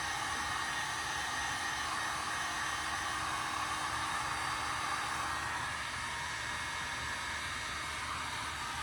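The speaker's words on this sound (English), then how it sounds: "I'm going to use a 37 grit belt to really take some mass off" A belt sander fitted with a coarse 37 grit belt grinds down a wooden longbow, giving a steady, even, hissing roar that continues throughout without any pauses.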